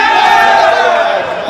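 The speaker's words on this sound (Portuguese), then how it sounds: "A torcida torcida do Maicon grita: força, Maicon." Maicon's supporters shout encouragement together as a loud, dense burst of crowd voices during a match between Baianinho de Mauá and Maycon de Teixeira de Freitas.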